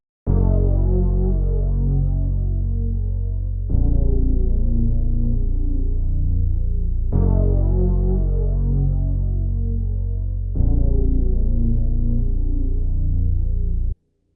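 A deep, droning synth bass repeats in long sustained phrases, its tone sweeping with a swirling phaser effect, loud and steady with no voices.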